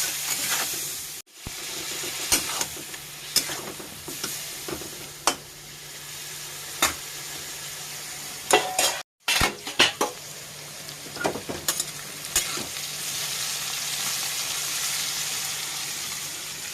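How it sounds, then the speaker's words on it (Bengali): Eggplant fries slowly with ground spices and salt in a pan, giving a steady close sizzle punctuated by sharp clicks and scrapes of a spatula stirring against the metal. "বেগুনটা আমি একটু ভালো করে ভেজে নেবো আস্তে আস্তে"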